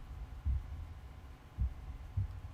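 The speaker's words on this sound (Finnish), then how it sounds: "Pikkuhiljaa loppuu sen sydämenlyönnit." A slowing heartbeat in the video game Black Mirror III, three heavy, low thumps spaced about a second apart over a dull hum, no speech.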